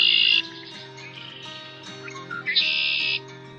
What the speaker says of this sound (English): heard a red-winged blackbird.